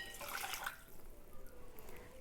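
Hot water is poured into a saucepan holding a handful of fresh thyme, a brief soft splashing that fades into faint trickling and quiet dripping, close and without talk.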